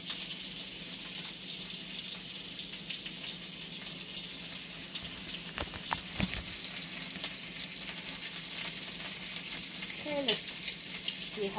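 Beef ribs searing in a hot pan for a caldo de res, a soft continuous sizzle with a few clinks and scrapes of utensils, fairly quiet and close.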